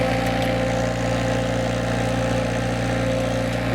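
A SealMaster sealcoating squeegee spray machine's engine runs steadily at idle, a constant close mechanical drone with a low hum and no breaks.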